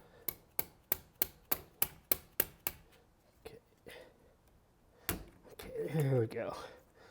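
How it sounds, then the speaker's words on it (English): A rubber hammer strikes a stuck heater valve on a classic Mini engine, nine sharp evenly spaced knocks up close, followed by a couple of scattered clunks and a short burst of speech at the end. "I'm going to use my handy dandy rubber hammer to try to help knock it free"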